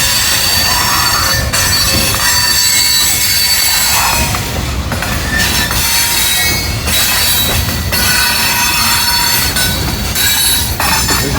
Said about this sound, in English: This is about the only train you're going to catch in the daytime on this line